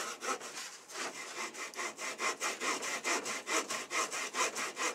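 Wood being cut with a Japanese hand saw in quick, regular rasping strokes that gradually speed up, close and clear with no talking.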